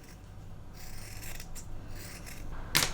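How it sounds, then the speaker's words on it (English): Scissors trimming excess fabric from a clutch bag being sewn, a few quiet, close snipping and rasping cuts ending in one sharper snip. "I'm now going to trim back the excess"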